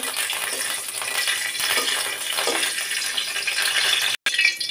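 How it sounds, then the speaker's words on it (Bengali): Two green chilies with their stems on, slit open and frying in oil in a pan, give a close, even sizzling hiss with light crackles, broken by a brief cut near the end. "এই 2টা মরিচ আমি ডাটা সহ ভাজি করতেছি"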